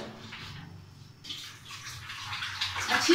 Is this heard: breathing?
no